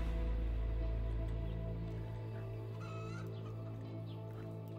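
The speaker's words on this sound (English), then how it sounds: "I hear a chicken." A chicken clucks in the zombie survival video game HumanitZ, with short, faint calls from off to one side heard over a steady low ambient game drone.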